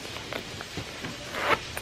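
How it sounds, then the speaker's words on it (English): A side zipper on a baby girl's faux-lace boot is worked open, a few quick scratchy rasps ending in a louder zip, close and fairly soft. "So it just zips down here on the side"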